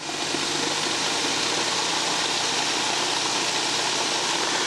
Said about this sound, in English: Now let me run up the engine to 1800 RPM and we'll make a few checks here